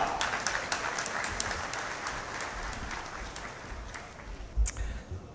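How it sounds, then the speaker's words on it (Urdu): Audience applause at a company's opening ceremony in Bahawalpur, a steady wash of many hands clapping throughout at moderate distance, fairly faint, with no speech over it. "بھرپور تالیوں میں استقبال کیجیے گا"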